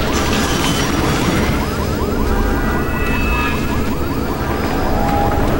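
A police car siren wails steadily and loudly in the Silent Hill: Shattered Memories video game, its rising and falling tones sweeping over a thick rumbling background throughout.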